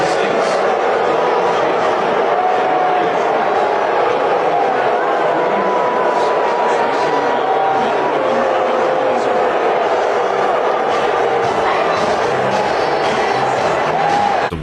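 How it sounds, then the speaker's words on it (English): A large stadium crowd roars with sustained loud jeering and shouting, a dense continuous wall of voices at close range for the whole stretch. "Trump realizes the entire stadium is booing him"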